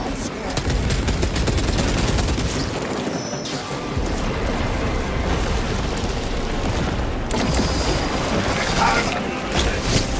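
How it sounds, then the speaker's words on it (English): Small arms fire in the game Warhammer 40,000 Space Marine 2, a dense, continuous clatter of rapid shots and mechanical rattles that holds steady at high level for the full length, with no clear break. "Small arms fire"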